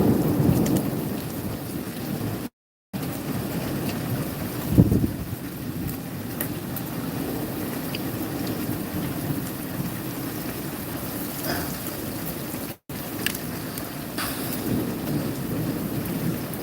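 A thunderstorm with steady rain pattering on surfaces and deep rumbles of thunder rolling through, continuous and fairly close, with a louder burst near the middle and no voices.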